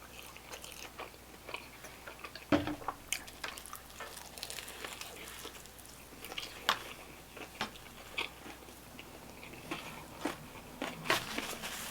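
Someone eating double cheeseburgers, with close, irregular bites and crunchy chewing plus soft wet mouth sounds, fairly quiet and without talk.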